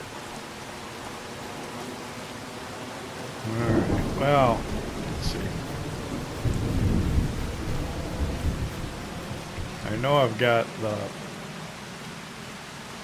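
Steady rain with rolling thunder in the farming game Farming Simulator 25, a continuous downpour hiss underneath while someone talks over it in two bursts.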